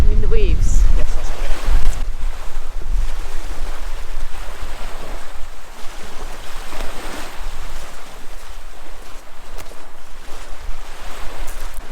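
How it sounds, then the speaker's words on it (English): Sea waves wash continuously near a Scottish village shore, a loud broadband surge mixed with buffeting wind noise on the microphone, with a brief sound at the start. "Noise from the sea. You mean the waves?"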